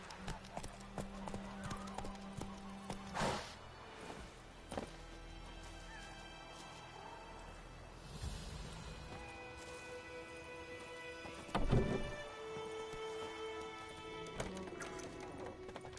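Hoofbeats of Geralt's horse Roach in The Witcher 3, a steady clip-clop of trotting hooves with an occasional whinny, close and clear alongside game sound effects and a brief spoken line.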